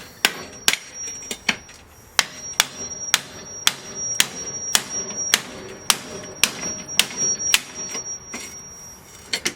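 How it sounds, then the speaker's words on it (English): Sharp metallic hammer taps knock out a part on an Exmark Lazer Z 72-inch mower, repeating in a fairly steady rhythm, close and loud, about a dozen and a half blows with a faint ringing tone between. "I'm going to grab a hammer and tap that out."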